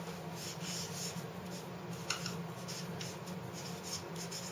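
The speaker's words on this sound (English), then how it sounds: "so let me write that up here" Marker or chalk writing on a classroom board, soft scratchy strokes in short repeated bursts over a steady background hum, close and quiet.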